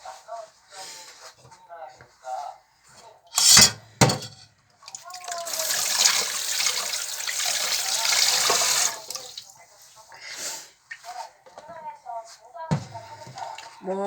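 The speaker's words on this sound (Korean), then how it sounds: "설거지 해볼게요." Running tap water splashes into a sink while dishes are washed, in bursts of flowing water and clatter, with someone talking between and over the washing.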